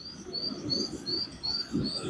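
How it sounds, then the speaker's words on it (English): Birds sing outdoors along the West Highland Way in Scotland, a repeated high thin call returning every half second or so over a soft, low outdoor rumble, faint and with no talking. "I love the sound of birds."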